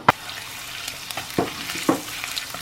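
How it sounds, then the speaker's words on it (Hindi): Julienned ginger frying in oil for a ginger chicken karahi, a soft continuous sizzle broken by a few distinct scraping stirs, fairly quiet and close. "ये देखिए फ्राई हो रहा है"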